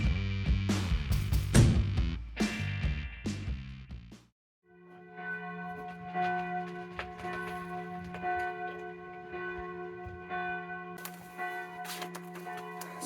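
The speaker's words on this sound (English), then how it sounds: "I'm gonna have to shout over the bells because they're gonna probably ring all day" Church bells ring nearby beside a workshop where a Mercedes S210 is under repair, first in a dense, loud clangor of overlapping strikes, then after a brief gap as sustained ringing tones that swell again toward the end.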